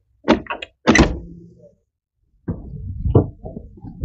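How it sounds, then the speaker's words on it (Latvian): Door of a ZAZ-1103 Slavuta hatchback clunks and rattles as it is worked open, a couple of close metallic thunks, then a pause and further handling noises. "lai varētu atvērt šīs durvis"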